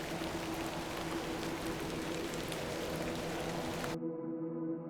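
Rain falls in the video game The Excavation of Hob's Barrow, a steady dense patter with a low hum beneath, cutting off abruptly near the end and leaving only faint tones.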